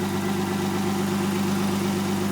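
A 1992 Lexus ES300 engine idles steadily while warming up during a coolant flush, a continuous low hum with a constant, even drone throughout and no talk.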